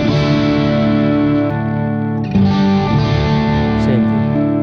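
Bass guitar signal routed through a Radial Twin City Bones switcher, sustained distorted notes with thick, phasey low end that shifts tone midway when the phase flips, played alone.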